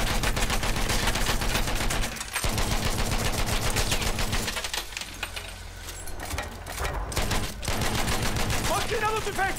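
Rapid machine gun fire rattles almost continuously in Battlefield 1, loud and close, with brief gaps. Shouted in-game voice callouts sit under the bursts.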